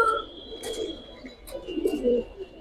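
Giribaz high-flyer pigeons from the same loft cooing, several low, rolling coos in two close bursts, fairly near and clear with no talk over them.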